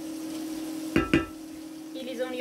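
Onions and garlic fry in a pan with a quiet steady sizzle, broken by two quick scraping stirs near the middle and a faint clink toward the end.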